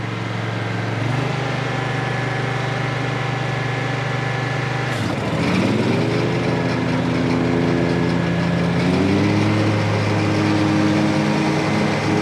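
A riding lawn mower engine runs at half throttle with a steady, loud drone, its pitch shifting twice as the machine works under load.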